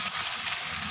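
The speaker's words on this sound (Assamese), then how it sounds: "আৰু এইখিনি পূৰা ধুনীয়াকৈ ভাজি লওঁ" Garlic, ginger, cumin and chili spices fry in a pan with fried onions, a steady close sizzle filling the moment with no talk.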